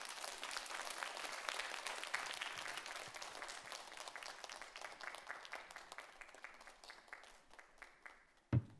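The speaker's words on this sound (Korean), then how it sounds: "여러분 박수로 환영해 주십시오" Congregation at a Thursday women's church service claps to welcome a preacher, a fairly distant, soft patter of many hands that gradually thins and fades, ending with a single sharp knock.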